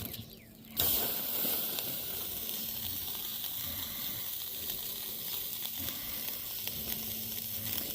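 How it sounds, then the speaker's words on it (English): A ribeye steak sizzles loudly over a hot wood fire, a steady dense crackling hiss that starts abruptly after a brief quieter moment and continues evenly throughout, close up with no talking. "You can hear that thing sizzling, y'all."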